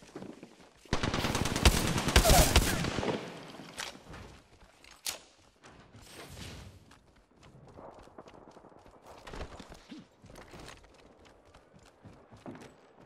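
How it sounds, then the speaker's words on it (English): Gunfire in the video game Apex Legends: a loud, rapid automatic burst lasting a couple of seconds, followed by scattered fainter shots and shuffling movement noises, with no voices. "Blanca's shooting at me"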